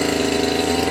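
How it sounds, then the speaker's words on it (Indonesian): A small grass cutter engine, fitted with an FWP 10 snail pump head to work as a water pump, runs at a steady, loud drone with a constant buzzing tone and no pauses. "praktekkan dulu nih mesin potong rumput yang bisa pompa"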